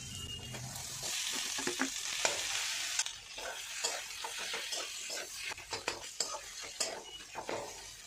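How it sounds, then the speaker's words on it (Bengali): Boiled potato added to a frying pan and stirred, with a quiet sizzle under repeated spatula scrapes and clinks against the pan in an uneven rhythm. "এবার আলু সিদ্ধটা দিয়ে দেবো।"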